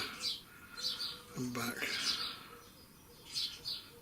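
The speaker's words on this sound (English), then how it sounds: "That little bird flies all the way to Africa" A small migratory bird, a summer visitor that winters in Africa, sings in short bright bursts at a distance, with a voice briefly speaking partway through.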